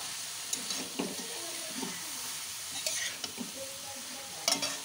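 Capsicum and cabbage stir-fried in a pan for mixed fried rice, a fairly quiet sizzle broken by scraping strokes and light clinks of the spatula, a few sharper hits near the end.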